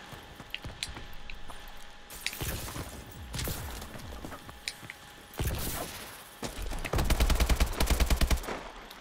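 Multiplayer Call of Duty: Advanced Warfare gunfire: scattered single shots and short bursts early on, building to a rapid, sustained automatic burst near the end, with mechanical clicks and thuds between volleys.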